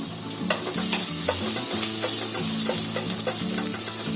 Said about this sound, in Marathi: आता त्याच्यामध्ये लसूण टाकते.